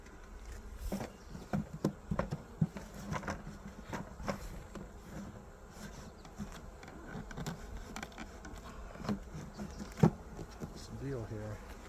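Honey bees buzz around open hive frames during an inspection, a close, steady drone with scattered wingbeat passes and handling knocks and clicks, while someone talks intermittently.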